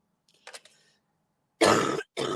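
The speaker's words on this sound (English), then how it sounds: "I don't mean to cough all over the iPad." Two harsh coughs close to the mic, broad and loud, preceded by a faint throat-clearing rasp and quiet pause.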